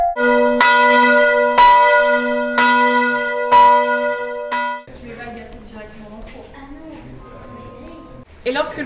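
Bells strike repeatedly at a Normandy bell foundry, each loud clang ringing out with long sustained tones over roughly five seconds, then giving way to a jumble of softer metallic clatter and tones.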